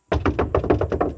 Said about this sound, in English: the mystery visitor knocks again